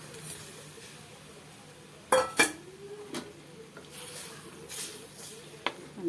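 Sautéed okra tipped into a pot of boiling curry for okra masala, with a few sharp metal clinks and scrapes of a spoon against the pot over a quiet kitchen background.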